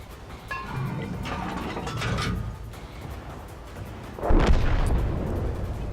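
Artillery shell fired in the tank game World of Tanks, a single heavy boom landing near the end after a stretch of quieter rumbling background.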